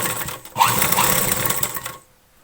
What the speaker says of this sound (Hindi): ये वाली सिलाई लगाने के बाद अब हम दूसरी तरफ भी सिलाई लगाएंगे